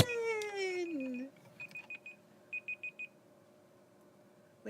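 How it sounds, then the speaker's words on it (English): A kitchen timer alarm goes off in bursts of short, even beeps, two groups of three, fairly close and clear, after a person's high, drawn-out voice at the start, with boiling walnut hulls simmering nearby. "Let me turn off my timer."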